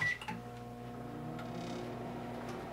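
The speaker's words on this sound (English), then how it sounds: "I'm running the microwave for 60 seconds." A microwave oven powered by a Jackery 1500 solar generator starts with a few beeps and clicks, then settles into a steady, low electrical hum with faint tones, quiet and close, with no talking.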